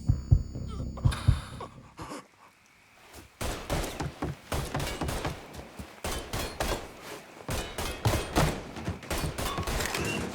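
Gunfire during a firefight in the video game Mafia 3, with dense bursts of shots and impacts after a quieter opening, rapid and loud throughout the second half.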